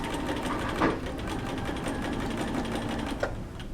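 A sewing machine bastes a long seam in fabric at a steady pace, its needle chattering in a fast, even mechanical rhythm, close and continuous with no one speaking.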